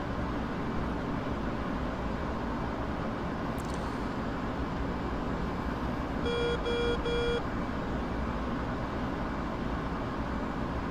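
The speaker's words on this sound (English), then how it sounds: "whenever you have a new threat come up, you get a notice, and there's different tones for ground threats or air-to-air threats" In the DCS F-18 flight simulator, a threat alert from the early warning radar sounds as a short series of clipped electronic beeps partway through, over a steady cockpit engine drone.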